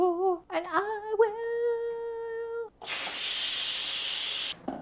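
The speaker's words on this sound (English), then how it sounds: "Now we're letting this release some of the steam naturally." Steam hissing out of a cooking pot: a loud, steady broadband hiss lasting nearly two seconds that then cuts off, preceded by a few tonal whistling squeals.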